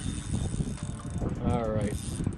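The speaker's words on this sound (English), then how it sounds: "You can hear that drag just singing right now." Fishing reel drag whining steadily as a big striped bass pulls line, a rising buzzy whir around the middle of the short stretch over wind and water noise.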